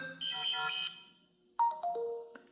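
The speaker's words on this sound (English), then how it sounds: "from here you can change the notification sound" Samsung phone notification tone previewed, a bright chiming melody: a sustained shimmering chord, a short pause, then a series of descending clean tones, clear and alone.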